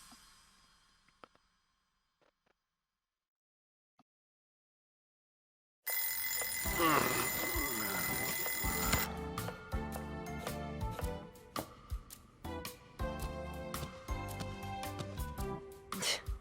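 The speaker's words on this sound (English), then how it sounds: "I even moved the alarm and everything. Turning it off in your sleep is a talent." An alarm clock rings in the video game Lost Judgment, a loud, dense electronic ringing that bursts in abruptly after several seconds of near silence and keeps going with pulsing repetition.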